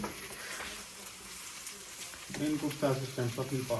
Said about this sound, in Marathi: सो आता तेल गरम झाल्यानंतर टाकलाय कांदा